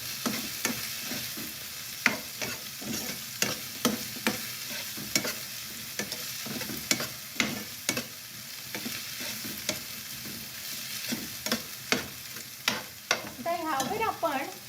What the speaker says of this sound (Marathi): आता मात्र हे चांगलं ढवळून घ्यायचं.